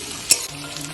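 Chopped onion fries with a soft continuous sizzle in a pan, broken by one sharp clink of the spatula stirring it.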